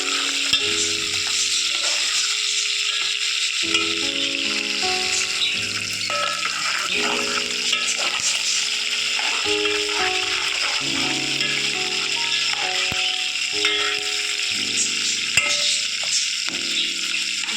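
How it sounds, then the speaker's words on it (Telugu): Green chillies are stirred in a hot pan for an Andhra-style beef curry, with a constant close sizzle broken by repeated scraping stirs, and tonal sounds running underneath. "దాంట్లోనే కొంచెం పచ్చిమిర్చి వేసుకున్నాం అది కూడా ఒకసారి తిప్పుకోవాలి"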